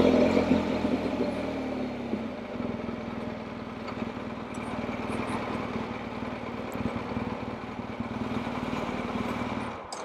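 A motor runs steadily through its exhaust, a continuous low rumble with a faint mechanical rattle, fairly close and unchanging.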